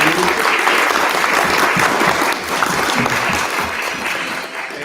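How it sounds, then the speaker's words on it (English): Sustained applause from a gathered audience honoring a mayor and a youth council team, dense steady clapping that fills the whole stretch at close range, easing slightly toward the end. "let's give a big round of applause for Mayor Greer Stone and PAYC."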